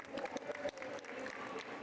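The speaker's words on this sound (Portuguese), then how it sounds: "Gente, uma salva de palmas," An audience at an Anime Friends convention panel breaks into soft, sustained applause from many hands, heard faintly from a distance with some crowd murmur mixed in.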